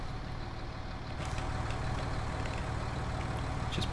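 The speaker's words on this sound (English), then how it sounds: "we'll get this tractor attached to our cultivator and we'll very quickly" Tractor engine idling in a farming video game, a steady low diesel rumble with a constant drone, moderately quiet and alone with no voices.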